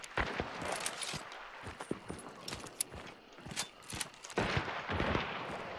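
Rapid bursts of video game gunfire in a squad battle game, sharp cracks and clustered volleys spread across the clip with short pauses, fairly loud and close with no talking over them.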